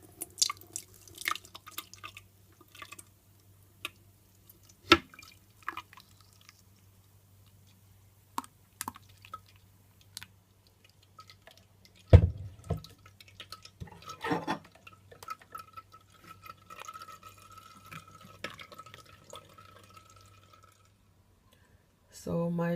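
Mango pineapple juice dripping through a strainer, scattered small drips and light clicks, sparse and quiet with a low background hum.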